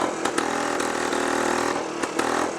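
A 1956 BSA Bantam Major motorcycle engine running steadily with a buzzy two-stroke character, close and continuous, with a few brief sharp bursts along the way.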